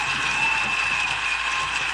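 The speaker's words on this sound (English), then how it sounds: "We're gonna give you an applause too." Dense, even applause for a guest in a sports talk show studio, a loud, continuous wash of many clapping hands with no breaks and no voices on top.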